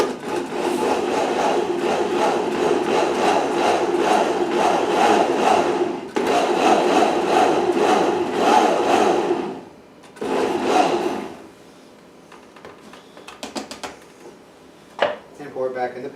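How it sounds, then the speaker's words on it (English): Roasted garlic soup whirs in a blender through a few loud pulses of several seconds each, the motor stopping between bursts, followed by quieter clinks and kitchen sounds. "we're going to go ahead and put our roasted garlic soup into the blender"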